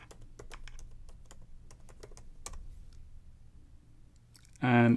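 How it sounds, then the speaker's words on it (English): Password typed on a computer keyboard: a quick run of close, light key clicks, then a brief louder tonal burst at the end. "I'll type in my password."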